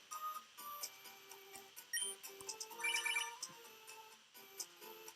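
Pokénav Match Call phone ringing in Pokémon Emerald, a chiptune ring made of short, bright electronic beeps and trills repeating in bursts.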